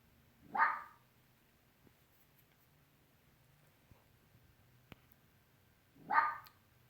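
A pet fox in its room gives two short, sharp barks several seconds apart, fairly close and loud against a quiet background.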